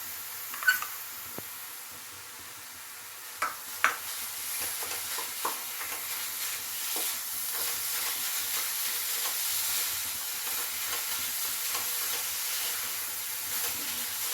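Homemade kheer being stirred into melted jaggery in a pan for gokul pithe: a soft continuous sizzle and hiss with occasional scrapes and knocks of a utensil, close and fairly quiet, no talking.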